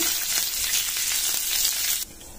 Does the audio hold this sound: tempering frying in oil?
yes